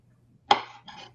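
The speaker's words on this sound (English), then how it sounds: "for the kids, I am chopping the carrots in little tiny circles" A knife chops carrots into small circles on a board while vegan potato soup is prepared: two close, crisp cutting knocks about a third of a second apart, with no talking.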